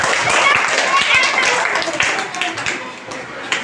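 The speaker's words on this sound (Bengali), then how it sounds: "ওর জন্য জোরে হাততালি।" Children in a third-grade school classroom clap together loudly, a dense, steady burst of many hands that fades slightly toward the end, with a teacher's voice in the room.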